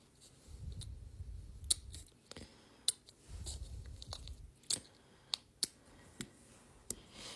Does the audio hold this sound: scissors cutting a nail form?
yes